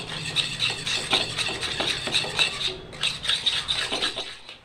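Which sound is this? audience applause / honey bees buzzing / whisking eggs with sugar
whisking eggs with sugar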